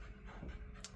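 A dog pants steadily in the background of an indoor room, a soft, continuous breathy rhythm that stays faint throughout, with no talk over it.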